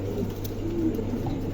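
Andalusian pigeons give soft, low cooing calls close by over a steady background hum, with no talking.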